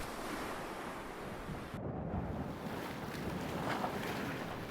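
Sea waves wash against the shore of an island in a Korean national park, a continuous loud surf roar mixed with gusting wind noise across the whole span.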